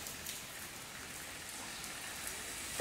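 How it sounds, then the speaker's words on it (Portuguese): Steady rain falling, a soft continuous hiss of drops on surfaces, even and unbroken throughout with no voices. "E fique com esse somzinho maravilhoso, que é o som de chuva, que dá vontade até dormir"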